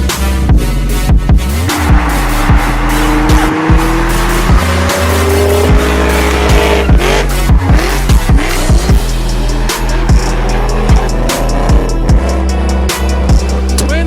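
Car engine with twin turbos, loud and close, revving repeatedly with sharp bursts, a rising pitch sweep and tire squeal, continuous over the whole stretch.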